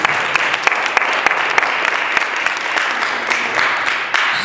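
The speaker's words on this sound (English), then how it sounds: "Another round of applause for Corey" An audience at a poetry slam gives a poet sustained, dense applause, loud and continuous throughout with scattered sharper claps standing out from the crowd.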